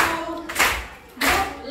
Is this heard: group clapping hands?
yes